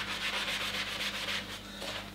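A scouring pad scrubs hard against the metal ferrule of a large Japanese deba knife, giving a steady, close abrasive rasp in quick back-and-forth strokes with no pauses and no voices.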